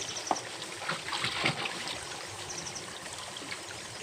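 Water runs and trickles through farm irrigation channels shortly before they are closed off for the evening, a steady soft stream murmur with a few small splashes, continuous throughout with no talk.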